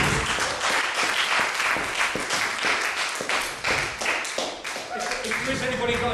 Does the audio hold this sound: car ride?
no